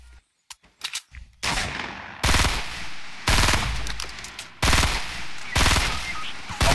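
Video game gunfire arriving from two directions, starting with a few sharp isolated shots, then long loud automatic bursts that cut off abruptly and resume, close and alone.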